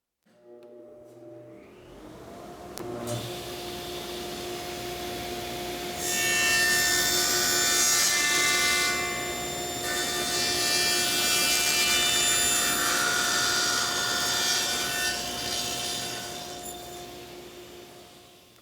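Table saw cutting wood with no throat plate fitted, a steady motor whine rising into a loud rasping cut that lasts several seconds, eases briefly, then continues before the blade spins down, no talking.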